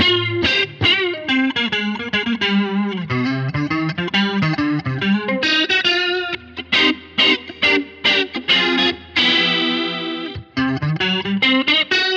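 Electric guitar lead through a Line 6 Helix with a shimmering chorus effect and some distortion, playing sustained melodic notes and bends, loud and continuous with no talking.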